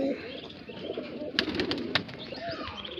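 Pigeons of a Moradabad-cross breed in a Bareilly loft keep up a low, steady cooing murmur, with a few sharp clacks and possible wing flaps partway through, close and moderately loud.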